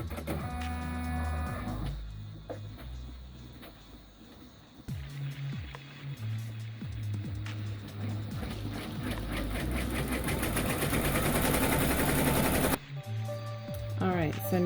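Home sewing machine running a dense satin stitch on a trifold zipper pouch key chain wallet, a rapid steady whirring hum that stops and restarts, loud and close, with a short pause near the end.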